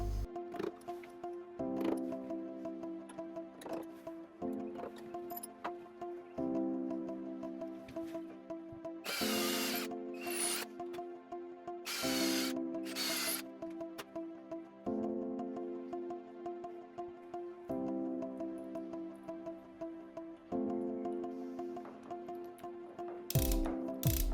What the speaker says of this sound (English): Then the 4 screws that really hold it in place can be put in.